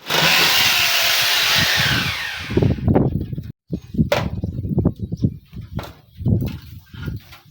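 A power drill whines loudly and steadily for about two and a half seconds while a waterproof tent awning is being fitted, then cuts off, followed by close knocks, handling noises and voices.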